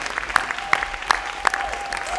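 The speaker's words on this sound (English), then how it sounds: "Big round of applause for our 4th graders" Audience applause for fourth graders at an elementary school culmination ceremony, steady clapping with a few sharper claps standing out, a sustained tone running underneath, fairly close.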